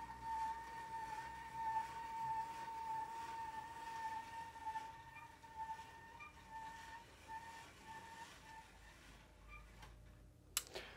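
O-gauge model train running on a small basic layout, a faint steady mechanical whine with soft rhythmic ticking of wheels over track, ending in a brief sharp click.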